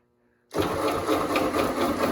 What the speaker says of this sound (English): go ahead, start your tractor